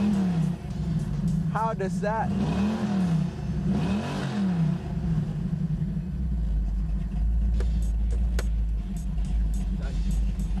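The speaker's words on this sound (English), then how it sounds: "when you can hear that engine sound? It is just amazeballs." Car engine revving hard while parked in neutral at the Summernats Malaysia car show, a loud rumbling roar that rises and falls over several seconds, with a person speaking briefly over it.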